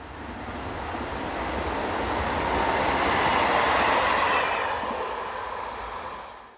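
Electric multiple unit Z11500 number 11505 passes on a Strasbourg to Nancy service, swelling from a rushing roar to a loud peak of wheel and track noise, then fading as it moves away.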